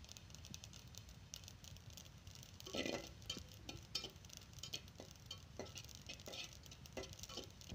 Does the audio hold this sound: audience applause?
no